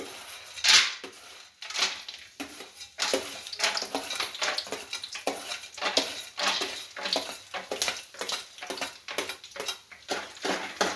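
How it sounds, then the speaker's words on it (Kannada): Peanuts tossed into hot oil in a pan crackle and sizzle up close, with bursts of spattering and stirring clatter in an uneven rhythm and no talking. "ಈಗ ಎಣ್ಣೆ ಕಾಯ್ದೈತೆ ನೋಡ್ರಿ, ಎಣ್ಣೆ ಕಾಯಿನ ಶೇಂಗಾ ಹಾಕೊಳಕತ್ತೀನಿ."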